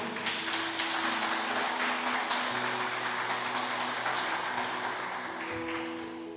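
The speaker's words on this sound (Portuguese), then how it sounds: "Aplaude a Jesus bem forte aí." A church congregation applauds for Jesus during a sermon, with steady, dense clapping held for several seconds over a sustained musical tone.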